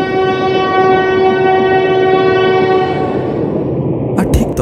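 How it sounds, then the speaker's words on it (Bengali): A cartoon train rushes past with a loud sustained horn over heavy rumbling rail noise, the horn cutting off before a few sharp clanks at the end. "ছুটে চলল আজকে রাতের প্রথম ট্রেন।"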